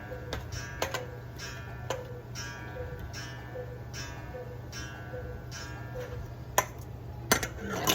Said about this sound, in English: cuckoo clock.